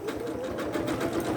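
A sewing machine runs steadily, stitching a log cabin quilt, with a loud, close, continuous whir and a rapid needle rhythm.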